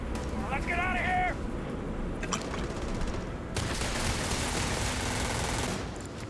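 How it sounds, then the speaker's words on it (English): Rapid gunfire crackles through a firefight in Starfield, steady and dense throughout, with a brief tonal electronic sound early on and a louder burst of fire partway through, while voices talk over it. "Who are you shooting at?"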